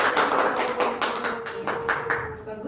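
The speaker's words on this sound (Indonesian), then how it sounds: "Iya, beri aplaus." A short classroom applause during a microteaching maths lesson, about a dozen brisk claps in a close, steady rhythm that fade out toward the end.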